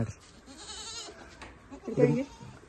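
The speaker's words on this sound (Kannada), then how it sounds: "ಇದೇ ಮೇಕೆಗೆ ರಾತ್ರಿ ಮರಿ ಆಗಿರೋದು ಮೂರು ಮರಿಗಳು" Newborn goat kids, three days old, give a brief bleat near the end, close by, while people talk over quiet farm background.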